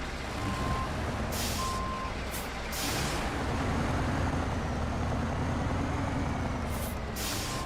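A big truck reverses in the SnowRunner video game, its reversing alarm sounding in short intermittent beeps over a loud, steady engine rumble.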